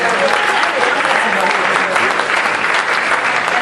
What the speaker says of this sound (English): Brother Reed another round of applause.